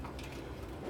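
Pigeons crowding a small feeding dish, with soft cooing and faint pecking and rustling close by, a steady low murmur of bird activity with no talking.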